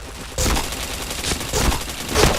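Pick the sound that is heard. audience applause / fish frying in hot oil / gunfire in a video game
gunfire in a video game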